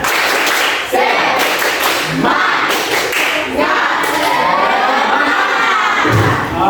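A classroom audience in a counseling session claps and cheers together in a loud, energetic burst, shouts and rhythmic clapping overlapping throughout, with excited voices rising and falling close by.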